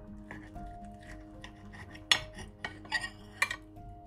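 A knife cuts through steamed chicken breast fillets on a plate, with quiet rubbing and scraping punctuated by several sharp metallic clinks of cutlery, close and faint against a low steady background hum.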